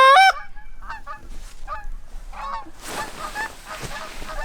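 Goose calls played back from a tutorial recording during a backyard goose hunt: a few loud honks open, then a run of shorter, quieter honks, with a noisy stretch of mixed calling in the second half.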